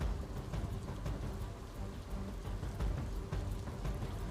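Heavy monsoon rain pours down during a deluge in North India, a loud, continuous, dense wash of rainfall with deep low rumbling underneath and no voices.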